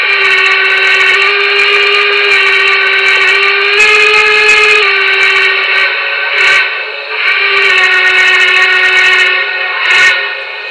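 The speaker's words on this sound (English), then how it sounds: "I love being able to quill my engine's whistles." A Broadway Limited Paragon 2 Y6B model steam locomotive sounds its whistle in loud, sustained blasts, quilled so the tone bends and wavers between long notes with short breaks, close and alone.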